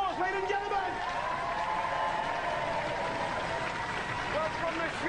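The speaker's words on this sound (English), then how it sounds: "give him a round of applause, ladies and gentlemen." Studio audience at a Robot Wars television taping breaking into steady, moderately loud applause with scattered cheers and voices mixed into the continuous crowd noise.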